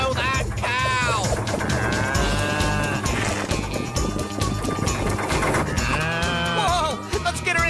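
A cartoon cow moos amid a busy, music-filled chase scene, with wavering animal calls rising over bright backing music and voices, the lowing repeated several times and loud throughout.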